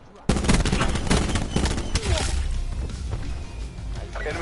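Artillery strike in Call of Duty: Black Ops 4 begins with a sudden loud blast, then a dense rolling barrage of booming explosions and crackling impacts continuing steadily throughout, with faint game voice chatter mixed in.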